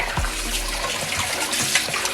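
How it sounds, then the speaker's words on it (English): Tap water runs steadily over raw pork that has been soaked in lime juice and vinegar, a continuous close splashing rush for a few seconds while the meat is rinsed for Jamaican stew pork. "you're gonna give it a rinse to get off the excess."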